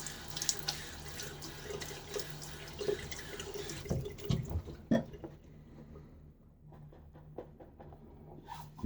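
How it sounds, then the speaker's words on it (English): Tap water runs into a sink and splashes as it is scooped onto a face before a wet shave, a steady close running-water wash with a few louder splashes midway, then quieter trickles and drips. "a little bit of water on my face"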